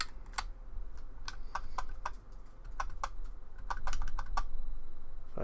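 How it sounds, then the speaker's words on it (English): Fire button on a Smok XCube Mini 75W vape mod clicked repeatedly, a series of sharp close clicks in irregular quick bursts over a low background hum. "Five clicks to turn on."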